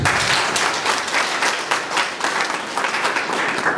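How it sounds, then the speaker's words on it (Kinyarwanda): A crowd applauds steadily, a dense wash of many hands clapping that keeps going without a break, fairly loud and close. "tugukorera amashyi"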